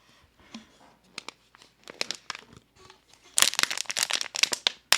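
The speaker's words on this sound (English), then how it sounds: "My dog loves the sound of crinkling plastic." Plastic water bottle crinkling and crunching close by, with irregular crisp crackles that grow denser and louder toward the end.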